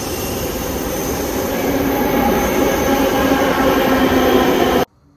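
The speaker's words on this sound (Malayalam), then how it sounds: "അപ്പോൾ അങ്ങനെ ഒരു 19 മിനിറ്റ് ഒക്കെ കഴിഞ്ഞപ്പോൾ ഒരു ട്രെയിൻ വന്നു." A Bangalore metro train arriving at a station, a loud, steady rumble of wheels and rail with a faint squeal, running close for about five seconds before cutting off abruptly.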